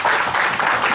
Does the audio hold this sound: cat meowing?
no